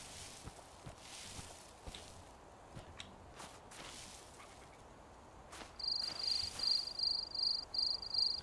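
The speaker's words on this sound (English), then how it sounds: "Crickets." Rhythmic cricket chirps in a video game begin partway through, steady repeated pulses over a quiet outdoor ambience with occasional soft footsteps and rustles.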